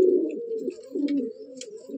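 An old-bloodline Madrasi pigeon in a loft coos close by, giving a continuous low, throaty burble with slight dips and swells over two seconds and no talking.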